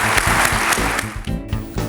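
Loud, sustained applause from a large conference audience giving a standing ovation to president Diagou and his team at a CGECI business forum, continuous dense clapping throughout with brief accented swells.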